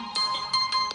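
A cellphone rings in a dramatized radio scene, its bright electronic chirps pulsing about four times in a second, close and clear with no talk over it.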